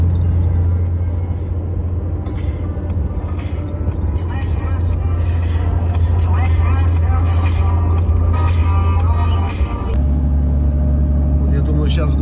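A MAZ truck rolls along the road, its engine droning steadily with a low rumble throughout, while someone talks over it.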